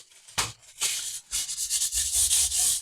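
Sandpaper rubs across guitar frets during fret levelling and crowning, giving a few short, close, scratchy strokes in quick succession that grow into a steadier rasping near the end.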